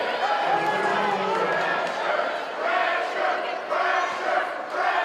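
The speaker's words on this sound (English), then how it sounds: "That's the Bedford crowd. Here's the pressure chant." A girls basketball crowd at a high school game chanting a rhythmic pressure chant, loud and sustained from the stands with pulsing repeated bursts, mixed with general crowd noise.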